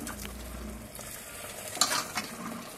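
Mutton rassa broth being stirred into masala in a pot, a soft steady scraping and swirl with a faint sizzle and a couple of brief clinks near the end, no talking.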